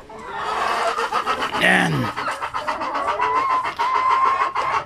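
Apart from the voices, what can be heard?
chickens clucking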